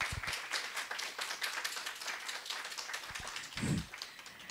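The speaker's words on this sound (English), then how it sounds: "can we have a huge round of applause to all the participants and especially the 257 shortlisted teams" Scattered applause from a hackathon grand finale audience in Bangalore, individual claps fairly distinct and uneven at moderate distance, with one louder thump near the end.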